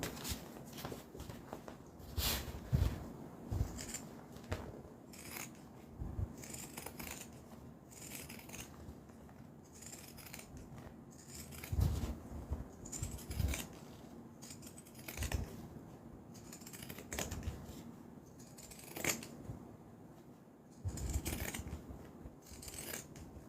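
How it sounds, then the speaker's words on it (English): Scissors snip repeatedly around the seam of a handmade leather-style wallet, trimming the edge of the material down to about a quarter inch, with crisp, close cuts in an irregular rhythm and soft handling noises between them. "I'll go around and trim this down to about 1/4 of an inch."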